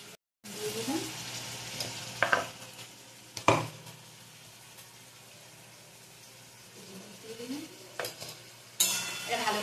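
Ginger paste sizzling and frying in a pan for a Bengali potato and katla fish curry with coriander leaves, steady hissing broken by several sharp spatula scrapes and stirring clatters, loud at times then quieter.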